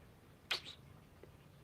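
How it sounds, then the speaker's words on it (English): A house cat lets out a single short, quiet meow in a hushed indoor room, followed by a faint small sound and near-silence. "Let me hear you meow"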